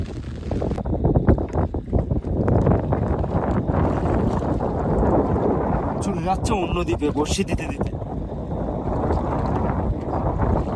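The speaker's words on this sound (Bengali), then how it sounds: "প্রচন্ড হাওয়া উঠেছে আমাদের, আর বৃষ্টি হচ্ছে।" Strong wind buffets a small fishing boat at night in the Sundarbans during heavy rain, roaring loudly and continuously against the microphone, while someone talks over it.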